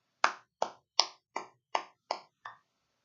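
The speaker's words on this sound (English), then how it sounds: "please give yourselves a round of applause for what you accomplished" Seven sparse, evenly spaced claps follow a speaker's address to an advocacy committee, each crisp and quiet, ringing briefly in a silent room.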